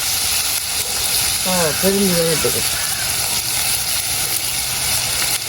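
Goat meat frying with green chillies as onions go into the pan, a steady loud sizzle throughout with a brief voice or tonal sound near the middle.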